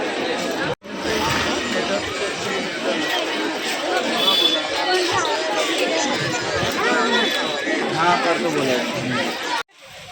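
Dense crowd chatter and hubbub fill a busy Indian market street, many voices overlapping steadily and close by, with brief breaks near the start and end.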